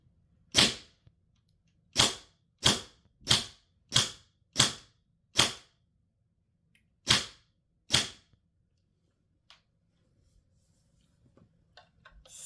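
Nine sharp, snappy shots come from an MAS Maple Armouries rifle fired through a chronograph, spaced irregularly about a second apart with silence between them. Faint handling clicks follow near the end.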